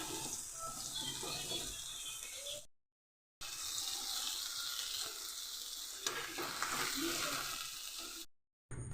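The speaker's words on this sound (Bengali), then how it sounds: "বেগুনি ভাজা হচ্ছে" Thin eggplant slices for beguni fry in hot oil in a home kitchen, a loud, continuous sizzle and crackle interrupted by two brief cuts to silence.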